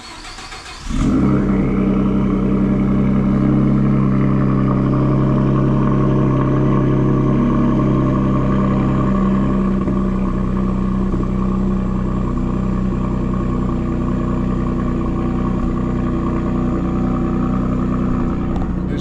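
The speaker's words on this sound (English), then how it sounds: "Let's go ahead and give y'all a cold start. I think it's so loud." Cold start of a lifted Ford F150 truck fitted with a MagnaFlow high-flow catalytic converter: the engine cranks, catches and roars up loud and close, then holds a steady, throaty idle for the rest of the clip.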